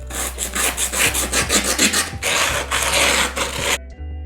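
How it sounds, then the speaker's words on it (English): Steady rhythmic sanding on a wooden skateboard deck, repeated rough scraping strokes close up, continuous and loud, ending abruptly. "time to begin the sanding process."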